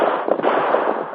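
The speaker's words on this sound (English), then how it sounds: "Hear that gunfire, Tonto?" A rapid burst of crackling gunfire, sharp pops tumbling over each other in quick succession, loud and close.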